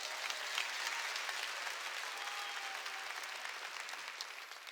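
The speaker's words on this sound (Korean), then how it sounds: "깨달은 사람만 박수치라고." A church congregation at a Wednesday worship service applauds steadily, a dense wash of many hands clapping at even loudness for several seconds with no talking.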